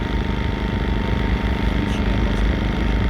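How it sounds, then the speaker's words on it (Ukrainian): Konner&Sohnen KS2100iS inverter generator running at a steady drone, a loud continuous engine hum with a constant tone and no speech over it. "обов'язково відключаємо навантаження перед тим, як будемо вимикати генератор"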